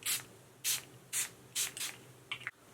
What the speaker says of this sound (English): I'm going to set with the Get the Glow setting spray by Studio Series